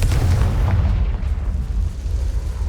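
A Confringo spell explosion in Hogwarts Legacy: a loud, deep, rumbling blast that sits close and sustained, slowly settling over a couple of seconds with no talking.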